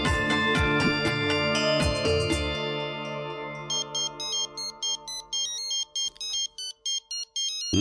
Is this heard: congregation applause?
no